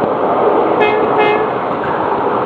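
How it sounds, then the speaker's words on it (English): Horn of a 7.5 inch gauge ride-on train sounding close and loud, one steady toot lasting a couple of seconds over a noisy outdoor background. "That's a neat horn he's got on there."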